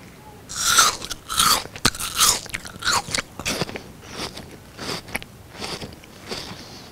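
Close, crisp bites into an apple followed by repeated wet crunching chews, several distinct crunchy bursts in a quiet setting with no voices.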